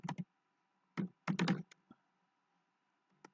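A last name is typed on a computer keyboard, a few sharp close key clicks in short bursts separated by pauses, with no voice.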